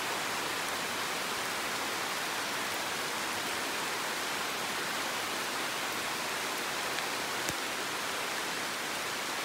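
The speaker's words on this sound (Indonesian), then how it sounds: "Hujan lebat teman-teman." Dense, steady rainfall at a campsite hissing loudly and continuously, with no pauses or voices, like a heavy downpour close by.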